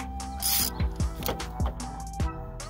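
A ratchet with a 10mm socket loosens bolts during a spark plug change. Several sharp, close clicking ratchet strokes come in an uneven rhythm, with a brief metallic rattle between them.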